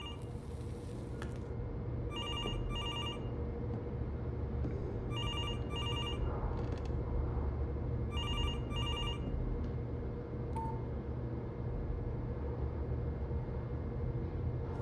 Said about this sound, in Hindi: मैं अगर तुम्हारी जगह होता तो इस वक्त मैं ये फोन उठा लेता